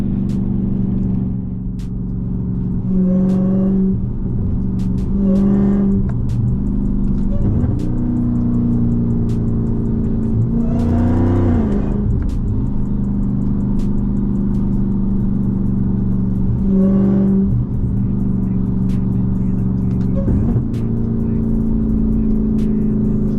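A Ford Mustang engine revs in several bursts amid a busy lot of other running cars, with a steady mechanical hum throughout and people talking over it.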